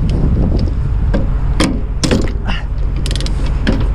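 A wrench loosening bolts on rails: loud, close metallic ratcheting clicks and creaking turns in short bursts over a constant mechanical rumble.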